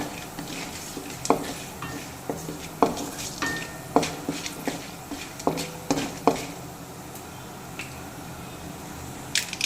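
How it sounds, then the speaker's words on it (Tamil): Cashews frying in a little oil in a pan are stirred with a metal spoon, giving repeated sharp scrapes and clinks against the pan over a faint steady sizzle, with no talking. "இது பொன்னிறமாக வர்ற வரைக்கும் இதை நல்லா கிளறி விட்டுக்கலாம்"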